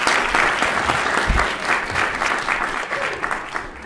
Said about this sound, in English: Let's hear a round of applause again for our students.